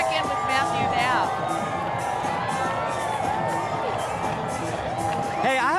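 Loud, dense crowd cheering and whooping along a WorldPride parade route, with shouts and high-pitched screams rising over a continuous roar of voices throughout.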